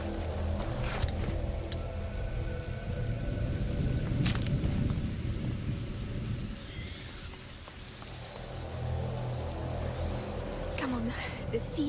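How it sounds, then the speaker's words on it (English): Steady rain and low rolling thunder fill a stormy scene in A Plague Tale: Innocence, a constant wash of noise with a deep rumble, while characters talk over it. "Lucas, Hugo, stay out of the rain."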